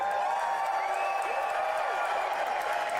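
An audience at a movie trailer reveal cheers and claps in a dense, continuous roar of crowd noise with whoops rising over it.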